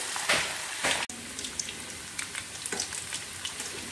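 Pieces of quail crackle and sizzle as they deep fry in hot oil, with two loud bursts as they drop in near the start and then a steady spitting hiss over the rest, no voices.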